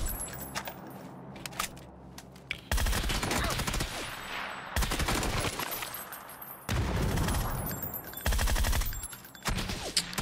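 Frag grenade blast and gunfire inside a building in the video game PUBG: dense, loud crackling volleys of shots alternate with brief quieter gaps, with sharp bursts throughout and no talking.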